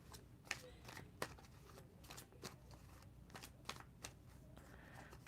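A tarot deck is shuffled by hand during a reading, giving soft, sparse card slaps and flicks in an irregular rhythm against a quiet room.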